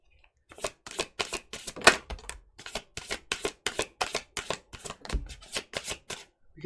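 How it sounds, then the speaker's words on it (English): Tarot cards riffled and shuffled up close in a quick series of crisp, rhythmic bursts, with short pauses between shuffles and no one speaking. "All right, let's just get these shuffled here."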